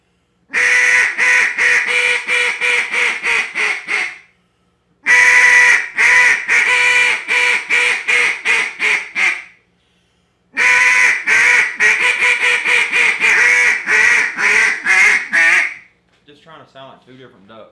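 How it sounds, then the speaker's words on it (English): A duck call is blown in a quack cadence going from raspy to smooth notes, three loud runs of rapid, descending quacks separated by short pauses, with a faint trailing sequence at the end. "Trying to sound like 2 different ducks, and that's kind of the quack cadence I use."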